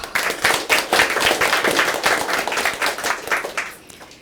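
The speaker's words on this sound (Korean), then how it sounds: "박수 한번 쳐주세요" Audience clapping at an anniversary ceremony for a Buddhist education centre, a monk present; dense, steady applause from many hands throughout, fairly close and loud, easing slightly toward the end.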